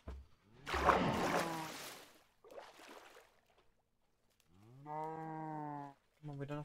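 A video game cow gives a couple of low, drawn-out moos near the end, after a stretch of rushing and splashing noise, with quiet pauses between.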